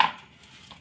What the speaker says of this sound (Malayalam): കനം കുറച്ച് അരിയാം